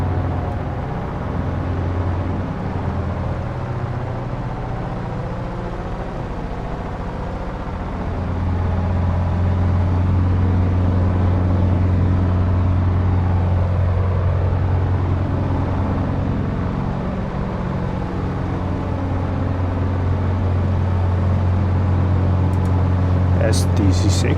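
Aircraft piston engines throttle up to fly in formation with a DC-6 at the Airpower22 airshow, a loud, steady low drone heard from on board that swells a few seconds in and then holds.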